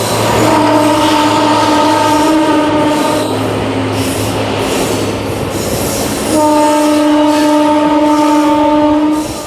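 Loud, close rumble of the Jodhpur Superfast express picking up speed between Vijayawada and Ongole, with sustained tonal whine and horn-like drones, wheel noise and a steady clatter throughout, no talk.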